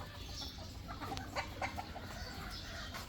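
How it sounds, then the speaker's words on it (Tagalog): Pullets and two-year-old hens on a gamefowl breeding farm cluck in a few short, faint calls over a steady, noisy outdoor background, with no talking. "Ito mga pullets din. May mga bullhen dito."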